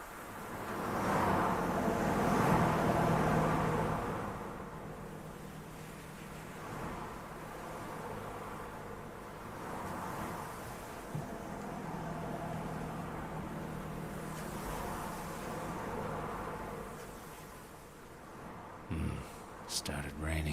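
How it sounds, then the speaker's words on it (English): Passing cars from the Silent Hill 3 video game, a steady low rumble of traffic swelling and fading in the distance under rain, with talk over much of it. "You can hear cars going by."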